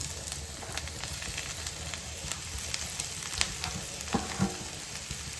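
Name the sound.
mashed potato frying in tempering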